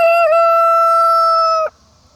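A single loud, close chicken crow rings out on a 100-acre farm homestead with laying hens, a sustained cock-a-doodle-doo that cuts off sharply into quiet.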